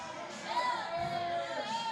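A crowd at a pool tournament in San Diego breaks into cheers after a shot, a brief swell of many voices with whoops and shouts rising and holding over two seconds, moderately distant.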